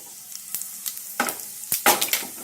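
Cumin seeds crackling in hot ghee or oil in a pan, heard as scattered short pops and sizzling bursts that grow denser toward the end, close and moderately loud with no talking.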